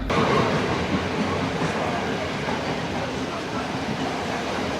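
A train arriving at a station in Hikkaduwa, Sri Lanka rumbles steadily with a broad roar and low mechanical hum, sustained and close, as if rolling slowly along the platform.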